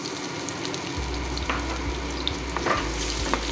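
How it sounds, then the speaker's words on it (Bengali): Garam masala fries in hot oil with ginger, garlic, green chili and onion paste for cauliflower rezala, a steady close sizzle broken by a few scraping stirs. "এবার এই সময় এর মধ্যে দিয়ে দেব আদা, রসুন, কাঁচা লঙ্কা আর পেঁয়াজের পেস্টটা"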